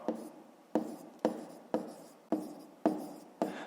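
Pen strokes of a handwritten fifth-grade math solution scratch across paper in seven short, evenly spaced bursts, each starting sharply and trailing off, close and quiet with no voices.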